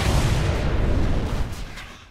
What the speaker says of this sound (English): Victory fireworks.